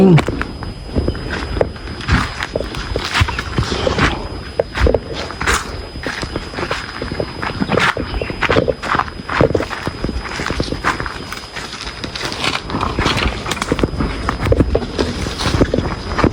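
Crunching, snapping footsteps move through brush and twigs at an irregular walking pace, close by, while people talk intermittently over them.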